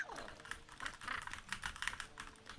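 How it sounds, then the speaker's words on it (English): A computer keyboard clatters with quick, uneven bursts of key presses during a gaming session, fairly close and crisp, with short pauses between clusters of taps. "I guess you can hear my keys, eh?"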